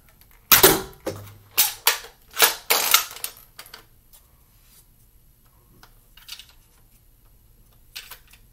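A NERF Barrel Break IX-2 double-barrel blaster fires two darts at once. Five or six sharp, close clacks and pops come in quick succession, followed by a few faint handling clicks. No one speaks.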